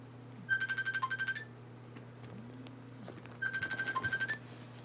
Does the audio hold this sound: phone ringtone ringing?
yes